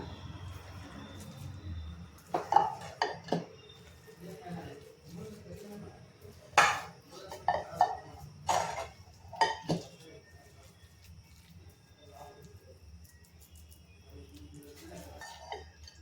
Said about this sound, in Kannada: ಹಲ್ವನ ಸರ್ವಿಂಗ್ ಬೌಲಿಗೆ ಹಾಕೋಣ